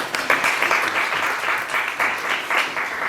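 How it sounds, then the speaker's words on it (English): People clap for themselves at a storytelling reading, a steady crowd applause with surges and dips, fairly close and filling the room on its own. "Clap for yourself."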